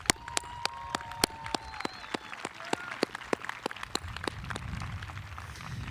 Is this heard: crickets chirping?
no